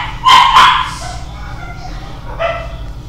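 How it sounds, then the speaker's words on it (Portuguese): A pet dog barks twice in quick succession, loud and close, then lets out a short whimpering yip a couple of seconds later, with a faint steady hum beneath and no one speaking. "desculpa vocês ouvirem. É a minha cachorra"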